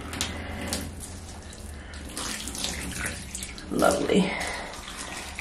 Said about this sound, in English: Gonna have a little bit of a rinse here.